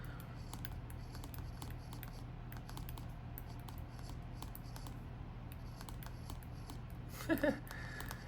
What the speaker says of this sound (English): let's just go ahead and write another note